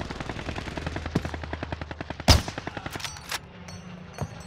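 Rapid automatic PPSh submachine gun fire in Call of Duty, a steady stream of close, loud shots with a few sharper bursts layered over it.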